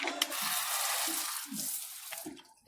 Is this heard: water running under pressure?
yes